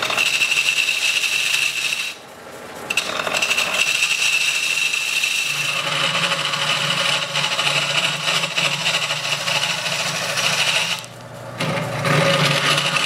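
A wood lathe turning a bowl, with a steady spinning drone and scraping, rubbing tool cuts against the wood. Two brief pauses break the cutting.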